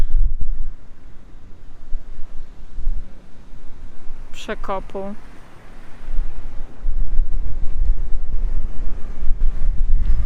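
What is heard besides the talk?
strong wind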